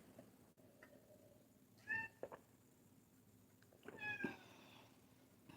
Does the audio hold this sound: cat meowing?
yes